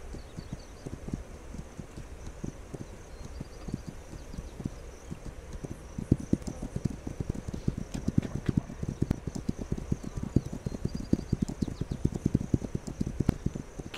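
Horse hooves clip-clop steadily in the video game This Land Is My Land, a dense, continuous trotting rhythm that grows busier and louder partway through, heard alone with no talk.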